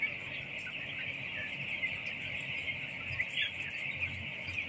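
Many chickens in a poultry farm house cluck and chatter at once, a dense, fairly faint continuous flock murmur with no single bird standing out.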